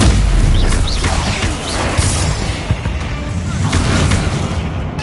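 Bombarda explosion spells and combat blasts from Hogwarts Legacy boom in rapid succession during a goblin mine assault, loud heavy thuds and crashes overlapping with sharp cracks throughout.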